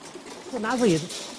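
A single short coo, a rising then falling throaty call from a racing pigeon, close and clear against a quiet background.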